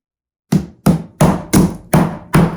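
Six sharp, evenly spaced hammer blows drive nails into hardwood flooring boards over a plywood subfloor, each strike loud and close with a brief ringing decay and no talk.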